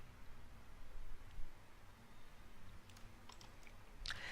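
Computer keyboard keys and mouse buttons click faintly in a quiet room, sparse at first, then a short cluster of taps near the end, including a press of the enter key.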